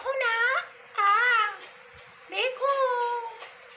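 A mother cat with her roughly two-week-old kitten gives three drawn-out, high, wavering meows, each separated by short pauses and heard close up and clear with no talking.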